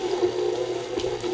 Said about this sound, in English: So I'm just going to slowly add water to it as it mixes.